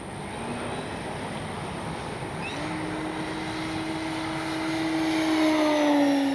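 An FMS 1400mm Pitts V2 RC biplane flying at full speed outdoors, its electric motor giving a steady droning whine that rises in pitch and grows louder as it passes closer.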